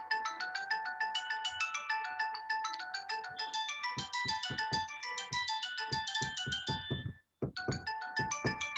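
A melodic electronic ringtone plays continuously and loudly, looping a bright tune with a brief cut near the end before resuming.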